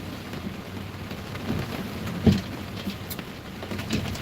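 Rain falls on a road in a steady hiss of wet patter, with a soft rumble and a few louder splashy bursts, heard alone without talking.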